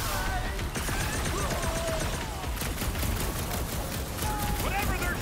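Enemy gunfire in Marvel's Guardians of the Galaxy, a continuous barrage of rapid energy shots and bursts in a busy battle mix, with voices talking over the fighting.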